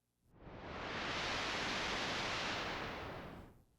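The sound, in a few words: synthesized noise through high-pass filter and amplifier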